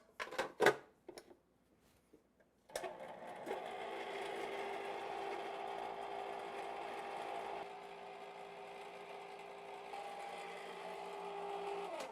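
A countertop ice cream maker of the kind that needs no ice or salt starts after a couple of thumps and runs as a steady, loud motorized whir with a faint ratcheting texture.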